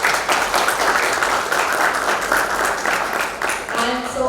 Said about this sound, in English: Let's just have a huge round of applause for the team at Vidarbha Festival